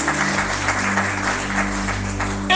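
Congregation clapping together in a church service, a dense steady wash of applause held throughout with a low organ or keyboard drone beneath it.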